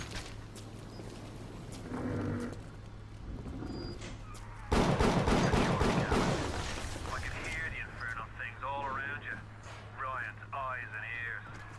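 Gunfire in the video game Bioshock breaks out in a loud burst of shots and blasts midway, set among game noise and electronic tones, with a voice talking over parts of it.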